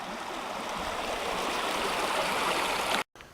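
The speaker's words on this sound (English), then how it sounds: "Beautiful river. Encampment river on the Superior Hiking Trail." The Encampment River flowing along the Superior Hiking Trail: a steady broadband rush of running water, close and even, cutting off abruptly near the end.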